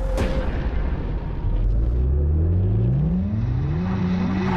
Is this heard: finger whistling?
no